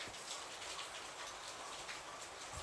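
Monsoon rain falls steadily around a rural Assamese home beside a brimming pond, an even, continuous patter close by with no talking.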